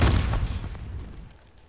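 A heavy boom with a decaying rumble from gunfire in a first-person shooter, loud at the start and fading out over under two seconds, with no talking.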